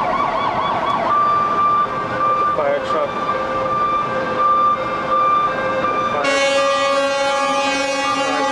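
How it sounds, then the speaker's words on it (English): Constant emergency vehicle sirens wail in overlapping cycles during the September 11 attacks in New York, joined near the end by a loud, steady multi-tone horn blast, with a voice faintly talking underneath. "You hear the sirens, constant."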